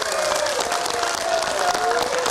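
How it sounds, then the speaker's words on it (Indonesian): Supporters at a Samarinda regional election debate hall applaud and cheer, a loud, continuous wash of clapping with crowd voices and a few shouts layered over it. "tepuk tangan sekali lagi yang meriah untuk kita semuanya"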